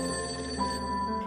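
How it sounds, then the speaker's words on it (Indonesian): A telephone rings in a gangster film, a steady electronic trill held for a moment, clear and alone with faint background tone. "tiba-tiba telepon berdering."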